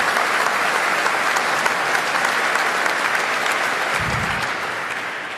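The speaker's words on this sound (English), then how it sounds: "a big round of applause for our panel" Steady applause from a debate audience fills the hall, dense and sustained throughout and tapering slightly near the end, with a brief low thump partway through.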